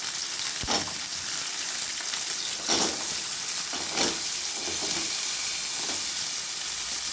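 Whole small shallots added to garlic in a hot pan, frying with a steady close sizzle and occasional stirring scrapes throughout.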